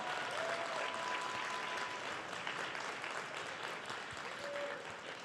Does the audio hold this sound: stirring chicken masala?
no